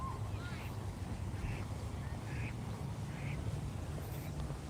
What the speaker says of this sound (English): Look at that duck coming in.